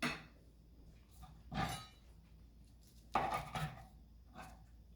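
A knife slices through a sushi roll on a board, giving a few separate soft cutting strokes with short pauses between them, close and fairly quiet.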